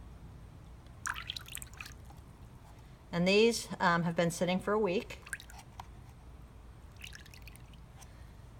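Water decanted off tomato seeds that have soaked for a week, with soft dripping and trickling before and after a stretch of nearby speech.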